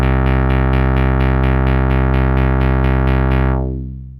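Strobe2 synthesizer playing a fast run of repeated, evenly pulsed notes with no random modulation, loud, bright and buzzy, then the tone fades away near the end.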